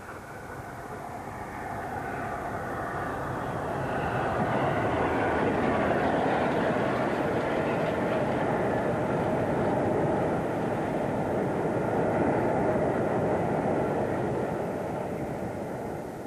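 The steam locomotive William Whitelaw rolls down Picton Bank south of Eaglescliffe, a steady, loud rumble and rush that swells up and holds for over ten seconds before easing slightly.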